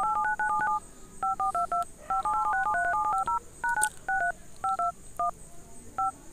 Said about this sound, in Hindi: आप नंबर डायल जब करते हैं तो जो साउंड सुनाई देती है उस तरह का ही साउंड आपको मिलेगा।